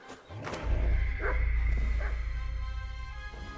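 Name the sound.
dogs barking in video game Kingdom Come Deliverance 2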